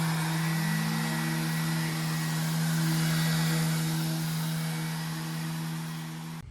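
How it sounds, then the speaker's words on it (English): Wood being sanded for a one-step stool with a power sander, a steady droning motor hum that stays loud and even throughout, with no talk. "And now for everybody's favorite part, sanding."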